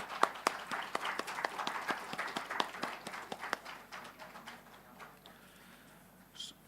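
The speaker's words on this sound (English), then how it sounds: "Round of applause, sir." Small audience at a pharmaceutical GMP manufacturing conference clapping as a speaker receives a token of appreciation; distinct individual claps patter quickly at first, then thin out and fade after about four seconds.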